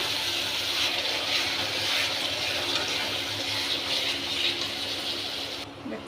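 Lukewarm water pours steadily into a pan while a paneer curry cooks, a continuous close splashing hiss that runs unbroken and fairly loud, then cuts off near the end.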